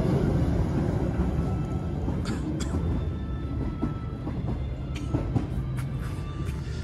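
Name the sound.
steam train passing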